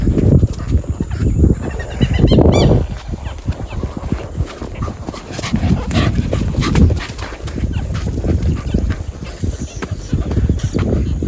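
Farm dogs bark repeatedly outdoors on a rural property, loud and close, mixed with hoof-like clopping and rustling movement.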